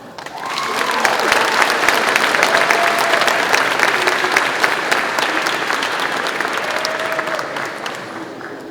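A crowd at the Longhorn Racing 2024 car unveiling bursts into sustained, loud applause welcoming a speaker to the stage, steady clapping holding for several seconds with faint cheering mixed in before easing off slightly.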